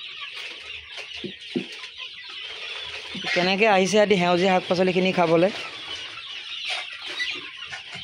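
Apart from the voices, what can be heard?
chickens clucking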